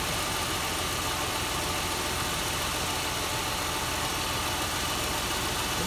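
A 2003 Mazda Tribute engine runs steadily while its power steering pump is put under load by turning the wheels, giving a continuous, fairly loud mechanical drone with no talking.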